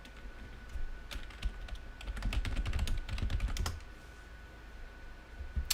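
Fingers type on a computer keyboard in bursts of quick, close clicks, a dense flurry in the middle tapering to a few scattered keystrokes, with no voices.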